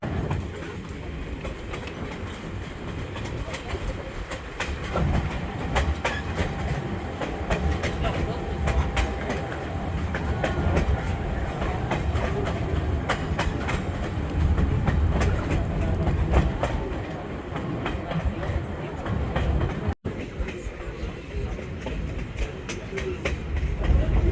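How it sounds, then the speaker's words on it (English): Train riding along the track on a long journey, a steady loud rumble with rhythmic clickety-clack of wheels over rail joints throughout, close and continuous. "Still about 20 minutes left on this train track."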